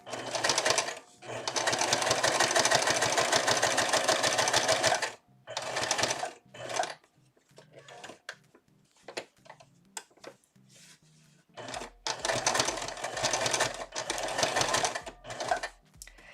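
A sewing machine stitches brown thread through fabric for a diaper pod tote, running in long buzzing bursts broken by short pauses and fabric handling, close and steady.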